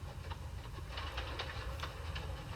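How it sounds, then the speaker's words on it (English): A dirty freight train rolls steadily along the rails, its continuous low rumble joined by faint rhythmic clicks of the wagons, with no voices. "he was pulling a dirty freight train"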